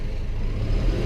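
A tractor engine at wide-open throttle, heard from inside a quiet cab, gives a steady, low, even drone for about a second, moderately loud, with no talk.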